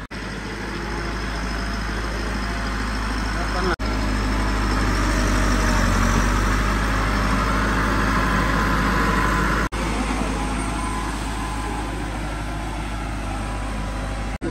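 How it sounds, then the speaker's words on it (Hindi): A farm tractor's engine runs steadily near a field, a continuous low rumbling drone with a constant loud level and no talking over it. "ये ट्रैक्टर वाले भाई आ चुके हैं, चलें जी। ये गए जी खेत में।"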